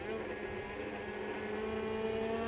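Snocross snowmobiles at a championship race in Dubuque idle and rev in a droning, steady engine chorus just before the start, heard at moderate distance without talk.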